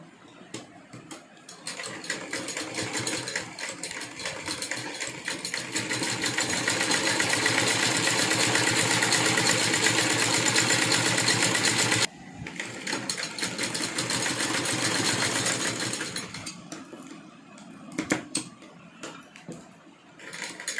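A sewing machine runs in steady long bursts while stitching lace onto a tiny Laddu Gopal dress, whirring loudly for about ten seconds, pausing briefly, then running again before slowing into a few intermittent clicks.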